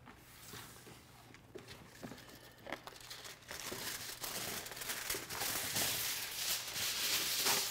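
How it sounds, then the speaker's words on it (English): Aluminum foil crinkles and crackles as it is pulled over a tray of BBQ beef back ribs, the rustling growing louder and denser toward the end, close and with no talk. "let's foil over the top of this"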